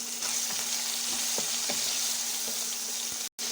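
Chopped onion, garlic paste and green chili frying in oil with fish, a loud continuous close sizzle with light stirring clicks and a brief dropout near the end.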